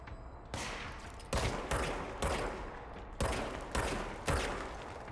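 Gunfire in the video game Control plays out as a rapid series of loud, broadband bursts, roughly six or seven sharp volleys spread evenly across a few seconds with no talking.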